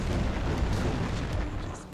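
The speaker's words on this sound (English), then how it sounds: "I would still have to stop for a couple of these explosions" Explosions going off in The Thing video game, a dense continuous roar of booming blasts with steam-jet bursts filling the short stretch, loud and close throughout.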